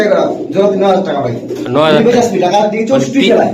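Racer and Damascene pigeons cooing together at a pigeon seller's, a dense, continuous overlapping murmur of coos and throaty calls, close and loud, with voices mixed in.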